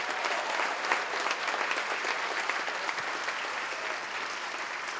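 A church congregation claps together in sustained, dense applause that holds at an even loud level throughout, broad and roomy with no voices standing out.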